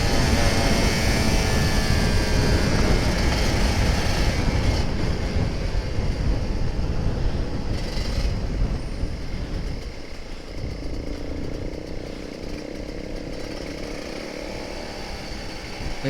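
A Kawasaki Ninja RR 150 two-stroke motorcycle revs on a morning ride, its engine a loud, dense roar mixed with wind rush that eases slightly partway through and continues steadily.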